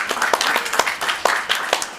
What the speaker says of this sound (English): Let's give an applause to all the volunteers.